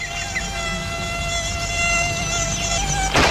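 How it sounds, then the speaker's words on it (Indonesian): A mosquito whines close by in a steady high-pitched buzz that drifts slightly in pitch, loud and continuous, ending with a short burst of noise. "Itu nyamuk yang ganggu kita."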